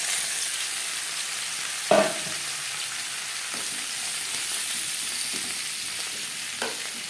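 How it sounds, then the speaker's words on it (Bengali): Onion, garlic and tomato fry in a pan for egg khichuri, giving a steady close sizzle broken by a sharp stirring clack near the start and a softer one near the end. "এবার দিয়ে দেব পেঁয়াজ, রসুন ও টমেটো।"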